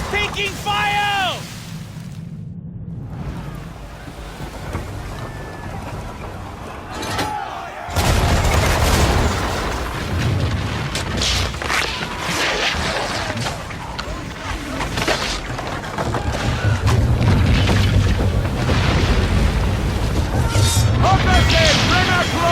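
Cannon fire and explosions strike a ship during an Assassin's Creed 3 naval battle, with loud booming blasts and crashing impacts over continuous battle noise while voices shout orders.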